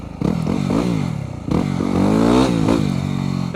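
A motorcycle engine revs hard during a wheelie, its pitch sweeping up and down in repeated surges with a brief dip before climbing again, loud, close and continuous with no voices.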